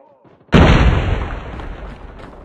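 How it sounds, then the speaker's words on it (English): A single loud grenade blast in the Call of Duty video game erupts suddenly after a quiet moment with faint voices, then leaves a long rumbling decay and a high ringing tone. "Grenade out!"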